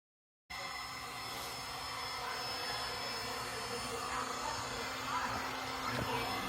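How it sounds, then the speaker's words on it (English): A heat gun blows hot air into the intake of an RB26 Nismo intake manifold, starting abruptly as a steady, close whooshing roar that holds on evenly throughout. "I'm gonna heat it up. So I'm pretty much just gonna stick the heat gun inside the intake part of it"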